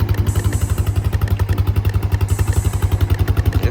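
A motorcycle engine idling close by, with a fast, even thumping pulse and rattly clatter that stays steady the whole time.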